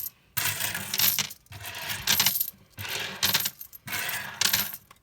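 Fifty coins are shaken in a cupped hand, giving loud, close metallic jingling in four rhythmic bursts separated by short pauses.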